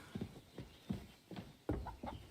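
Chicken clucking in the medieval video game Kingdom Come: Deliverance 2, a series of six short clucks at a steady pace, fairly close and clear with no talk over them.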